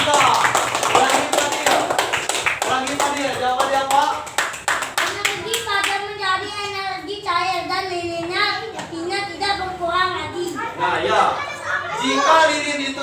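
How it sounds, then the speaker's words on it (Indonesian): Schoolchildren clap for a group in a classroom, with a burst of sharp, fast clapping at first before it thins out under children's chatter and talking. "Tepuk tangan untuk kelompok 3."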